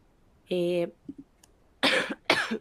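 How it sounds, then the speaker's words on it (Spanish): A person coughs several times: a short throaty burst, a pause, then two harsh coughs close together, near and fairly loud. "Una disculpa, tengo como tos."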